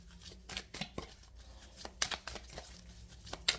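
Deck of affirmation cards being shuffled, a few quick papery riffles and flicks with soft clacks, close and fairly quiet, no talking.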